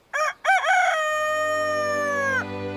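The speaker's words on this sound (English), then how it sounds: "Cock-a-doodle-doo!" Rooster crowing loudly and close: two short clipped notes followed by a long sustained cock-a-doodle-doo that holds steady before cutting off, with a faint low hum beneath.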